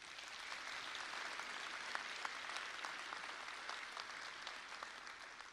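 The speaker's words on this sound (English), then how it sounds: "Let's give each of them a round of applause." Faint, distant applause from an audience honoring retiring school teachers at a district recognition ceremony, a steady patter of many hands clapping that holds evenly throughout, with no talking over it.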